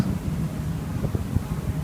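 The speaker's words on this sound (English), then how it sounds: "It's a pretty windy day. I'm on deck." Steady wind rushes across the open deck of the sailing warship HMS Trincomalee, a broad constant blustering roar with faint irregular bursts that may be loose signal flags flapping, no voices present.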